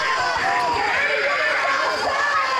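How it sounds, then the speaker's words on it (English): A crowd cheers loudly and continuously in the stands at a middle school football game between Guyan Valley and Hamlin. The dense roar of voices holds steady throughout. "Crowd is cheering hard."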